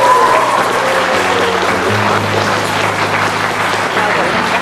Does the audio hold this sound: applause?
yes